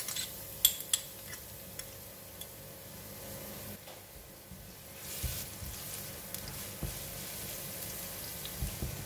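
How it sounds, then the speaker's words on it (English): Garlic frying in hot cooking oil in a pan makes a faint, steady sizzle, broken by a few sharp utensil clinks near the start and scattered light knocks later. "When oil is getting hot, I'm putting in the garlic."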